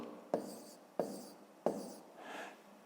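A pen draws a vertical line on paper during a written division exercise: three short, crisp scratching strokes about a second apart, each starting sharply and fading, then a softer longer rub, close and quiet with no talk.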